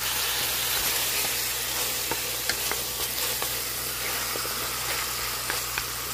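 Pork ribs sizzle in a new pot for sinigang, a steady close frying hiss with faint clicks and stirring scrapes throughout.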